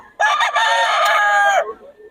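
A rooster at a poultry market in Bocaue crows once, a loud, close, drawn-out call of about a second and a half that ends in a falling tail.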